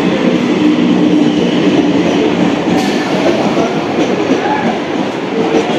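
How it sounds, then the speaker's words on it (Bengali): A 12-car Dankuni–Sealdah local train passes close by near Baranagar Road, a loud, continuous rolling rumble with wheel clatter that holds steady throughout. "এটা হচ্ছে ডানকুনি শিয়ালদা লোকাল।"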